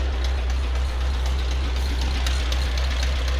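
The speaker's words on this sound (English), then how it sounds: "while the tractor's running" A diesel tractor engine runs at a steady idle with a low, even rumble and faint knocking, close by and constant with no one talking.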